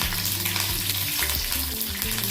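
Garlic and curry leaves fry in oil with crackling mustard seeds, making a dense, close, continuous sizzle with popping and spatter throughout, with no voices.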